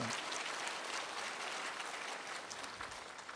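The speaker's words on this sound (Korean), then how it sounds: "우리 박수 한번" A church congregation applauds the choir, conductor and accompanist at a Sunday thanksgiving service, a steady, distant wash of many hands clapping with no voices over it.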